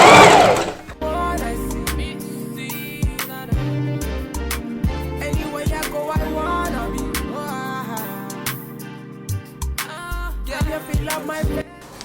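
Sewing machine running a zigzag stitch over doubled hair wefts for a glueless lace frontal, a steady close mechanical chatter sustained for several seconds, with brief stops and restarts and no talking.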